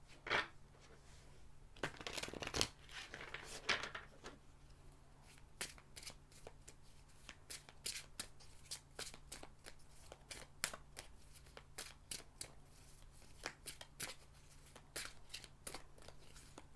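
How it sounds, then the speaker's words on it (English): Tarot cards are shuffled repeatedly, crisp riffling bursts and light flicks, soft and close, with a quiet low hum underneath. "let us begin the shuffling."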